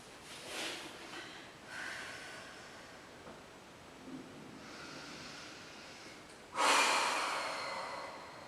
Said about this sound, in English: just breathe deeply into your lower back